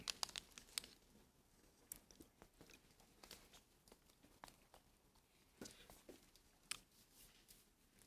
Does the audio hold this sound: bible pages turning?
yes